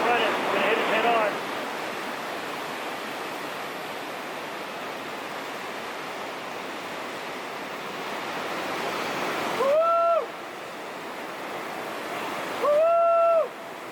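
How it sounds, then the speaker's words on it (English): Colorado River rapid roars loudly as an oar raft rows through, steady broadband rushing water throughout, with brief whistling tones near the start and two short bursts of noise later. "it's time for Kevin Statham to row the first of our oar rafts through the rapid"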